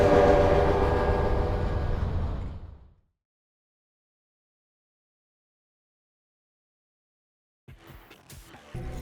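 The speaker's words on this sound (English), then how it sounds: "So, I'll start the train." Train in the video game Eternights, a loud rumbling run that fades to silence after about three seconds, then quieter rail clatter and mechanical sounds returning near the end.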